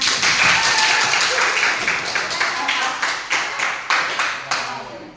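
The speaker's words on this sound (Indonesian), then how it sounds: "kita beri tepuk tangan untuk Marliana" A classroom group applauds a student named Marliana: dense, sustained hand clapping that stays loud and close, then thins into a few separate claps that trail off near the end.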